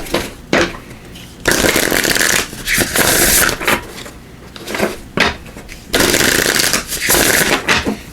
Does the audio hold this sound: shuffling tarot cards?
yes